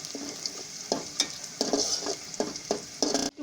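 Pieces fry until brown in hot oil for a raw jackfruit curry, a loud close sizzle with rhythmic spoon stirring strokes about every half second, and no talking.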